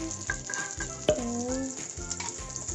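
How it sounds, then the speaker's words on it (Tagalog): Butter melts and sizzles in a frying pan on low heat while making gyoza-style cabbage rolls, a steady crackling fry with a few soft clinks and tonal kitchen sounds over it, close and fairly loud throughout. "Maglalagay lang kayo ng butter sa pan. Hintayin nyo lang siyang malusaw."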